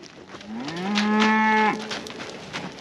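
A cow moos once, long and loud, rising and then falling. The lowing is close and stands alone over faint outdoor background.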